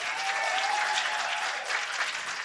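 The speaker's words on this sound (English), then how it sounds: "You could give him another round of applause." Audience applause at an annual Black History celebration, a steady dense wash of clapping filling the hall without a break, fairly loud and close, with no speech over it.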